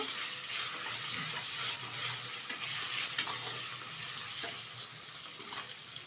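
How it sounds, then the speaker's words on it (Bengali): Chopped tomato stirred into hot oil tempered with black cumin (kalo jeere) in a pan, giving a steady close sizzle with spoon scrapes and stirring throughout, no voices. "কুচিয়ে রাখা একটা টমেটো ভালোভাবে একটু নেড়ে চেড়ে নেব"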